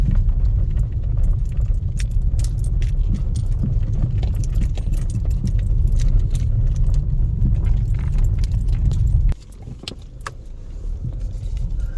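A car drives steadily along a road past rubber plantations, its engine and tyre rumble constant and close, with faint rattling and jingling inside the cabin; the road noise drops and shifts near the end.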